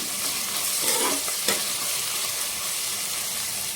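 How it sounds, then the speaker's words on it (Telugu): Dried prawns and onions are stirred in a pan to keep them from sticking, giving a loud continuous sizzle broken by a couple of brief scraping strokes near the start. No one speaks. "తర్వాత మూత ఓపెన్ చేసి అడగంటకుండా ఒకసారి ఈ విధంగా కలుపుకోవాలి"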